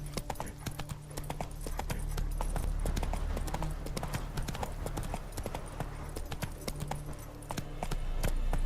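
Horse hooves gallop in The Witcher 3: Wild Hunt video game, a fast, steady clip-clop rhythm over a low rumbling ground tone, close and clear throughout with no voices.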